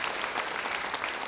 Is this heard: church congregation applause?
yes